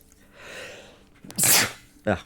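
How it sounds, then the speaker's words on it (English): A single loud, sharp sneeze bursts out after a short inhale, followed by a brief vocal sound, close to the listener. "I'm gonna sneeze"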